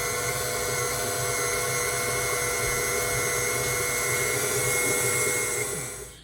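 Electric mixer beating sugar, egg and butter, a steady loud motor whine with churning, held throughout and winding down at the end, close by with no talking.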